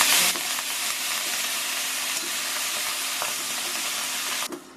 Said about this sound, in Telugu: చివరిగా 3 ఎండుమిర్చిని తుంచుకుని వేసుకోవాలి. అలాగే కొద్దిగా కరివేపాకును కూడా వేసుకుని బాగా వేగనివ్వాలి.